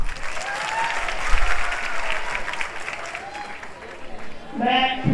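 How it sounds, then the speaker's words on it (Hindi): Quiz contest audience claps steadily in a moderately loud, sustained round of applause, with a few voices murmuring and someone speaking briefly at the end. "इनके लिए जोरदार तालियां।"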